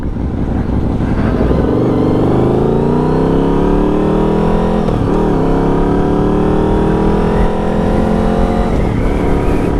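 A vehicle drives along a road, its engine loud and close, revving up through gears with rising tones and a couple of shifts, and steady road and wind roar throughout.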